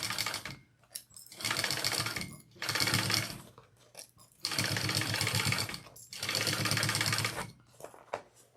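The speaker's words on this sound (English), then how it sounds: "I'm gonna go down to my basting stitch now." Sewing machine running a long basting stitch through a vinyl bag, four rapid mechanical runs with brief stops between them, close and fairly quiet, with no talking.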